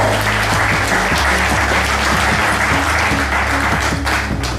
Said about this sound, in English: How about a nice round of applause for the entire staff of the Empire Casino